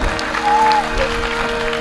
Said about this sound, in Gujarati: વધાવો જોરદાર તાળીઓથી વધાવો એમને